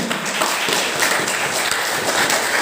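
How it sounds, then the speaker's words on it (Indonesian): A seminar audience claps for the speaker, a dense, steady wash of many hands that fills the room at an even, fairly loud level throughout. "Tepuk tangan untuk Bapak Abdul Syakur."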